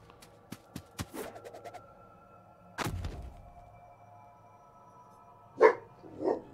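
A few sharp barks from a dog in Kao the Kangaroo game audio, separated by pauses, with thuds and electronic tones between them.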